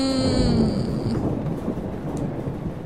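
Thunderstorm in the game Life Is Strange: a loud, dense rumble of thunder and heavy rain fills the scene continuously, with no voices.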